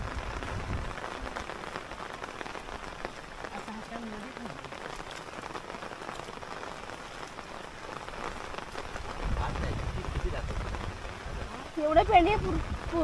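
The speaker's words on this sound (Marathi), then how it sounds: "पाऊस मस्त पडतोय अगदी" Steady rain pours onto a flooded rice paddy in the Konkan during transplanting season, a continuous broadband hiss throughout, with a brief louder rustle and a few faint voices near the end.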